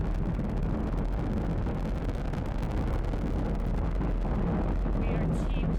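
Falcon 9 first stage with nine Merlin engines during a crewed Dragon launch, a steady loud broadband roar and rumble that fills the whole clip without letting up.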